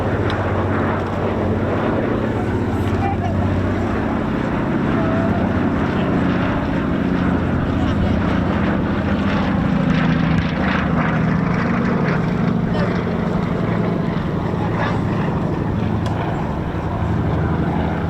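Lockheed 12 twin-engine propeller aircraft from the 1930s, a loud continuous rumbling engine drone with propeller throb, sustained and close throughout.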